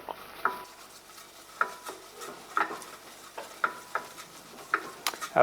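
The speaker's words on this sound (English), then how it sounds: "allow the butter to melt all the way and create a flour paste, and I want to cook the flour" A roux of melted butter and flour stirred in a pan, a steady low sizzle with repeated scraping strokes of the spoon every second or so, close and without talk.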